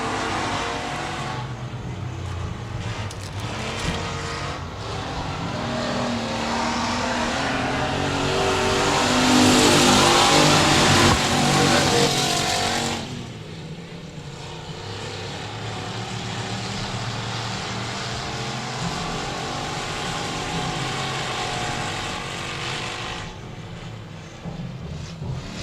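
Race cars at the Speedway of Texarkana roar into turn one on a restart, a dense wall of engine noise swelling to a loud peak as the pack passes close, then settling into a steady distant drone.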